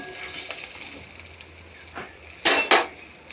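Salt, sugar and turmeric powder are stirred into a pan for coconut chana dal: soft, sparse kitchen scraping and clinks, ending in two sharper metallic clatters close together.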